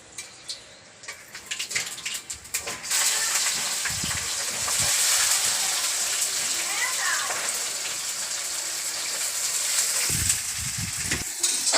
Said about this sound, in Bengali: খুব সুন্দরভাবে পেঁয়াজ রসুন ভাজা হচ্ছে